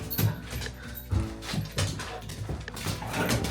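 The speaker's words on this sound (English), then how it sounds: "while the dogs are going crazy" Several dogs in a living room at midnight yelp, whimper and bark excitedly in short bursts, fairly close, while a washing machine runs nearby.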